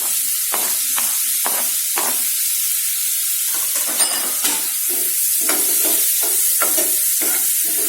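Tomatoes hitting a hot frying pan while a peanut curry cooks, giving a steady loud sizzle with repeated scraping stirs of a spoon against the pan, and no one talking.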